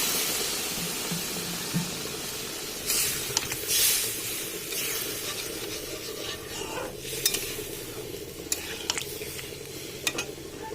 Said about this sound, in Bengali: দিয়ে দিচ্ছি এর মধ্যে জল